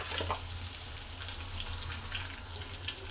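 Garlic fries in a little oil for an egg gravy, giving a close, continuous sizzle with light crackles and no talking.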